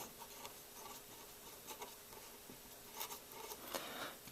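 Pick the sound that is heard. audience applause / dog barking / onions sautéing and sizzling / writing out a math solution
writing out a math solution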